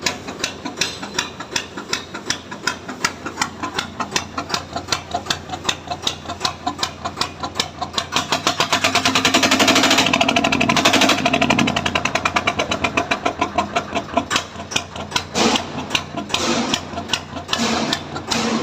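A steady mechanical engine runs with a rapid, rattling rhythmic clatter, rising briefly louder in the middle before settling back to a constant chugging.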